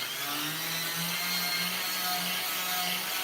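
A sanding roll ports a Honda Type R intake manifold, lubricated with a soapy water and alcohol mix, giving a steady, fairly quiet mechanical whine and grinding hiss with a faint wavering hum.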